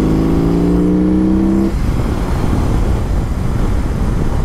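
A BMW R18 heavy cruiser motorcycle rumbles while riding, its engine tone rising briefly before blending into loud, steady wind and road noise.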